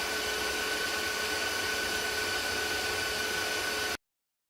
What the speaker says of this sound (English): I think what you're hearing is the noise from the exhaust fan or the Metalfab unit.